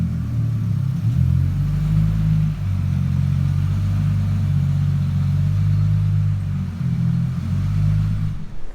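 Ford Mustang with a 1,500 horsepower engine being driven, heard from inside the car at a motorsport shop: a loud, continuous deep engine rumble with revs rising and falling in waves throughout, no talk.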